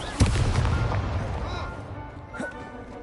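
A fiery Confringo blast spell from a Harry Potter wizarding video game erupts with a sharp boom followed by a rumbling, crackling decay and a second smaller burst near the end.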